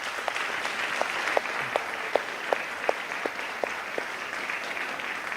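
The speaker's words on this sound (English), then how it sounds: "Let's give them a round of applause." Audience applause at a college state-of-the-university address fills the room as a steady wash of clapping, with sharper claps recurring in a regular rhythm throughout.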